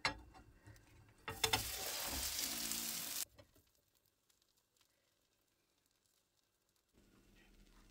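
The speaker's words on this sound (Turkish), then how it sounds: "Bir yüzü güzelce pişen omletimizi bir kapak yardımıyla ters çevirip diğer yüzünü de aynı şekilde kısık ayarda kapağı kapalı olarak pişmeye" An omelette frying on low heat in a covered pan gives a burst of sizzling for about two seconds, then fades to near silence with only faint ticks before a soft low hum returns at the end.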